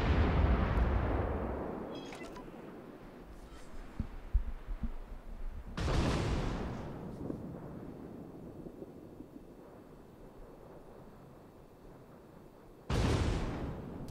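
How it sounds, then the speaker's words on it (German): Naval gunfire in the World of Warships game, with an Edinburgh cruiser firing on an Essex carrier: two sudden loud booming salvos, roughly seven seconds apart, each decaying into a low rumbling wash of battle ambience with no voices. "Und jetzt wird er auch beschossen von der Edinburgh"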